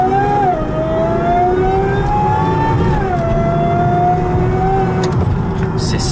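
A Cadillac STS with a 4.4L supercharged V8 revs loudly and close, its engine pitch rising, dipping and climbing again in a sustained mid-range roar.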